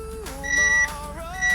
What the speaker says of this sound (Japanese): このブザーが鳴り続けます。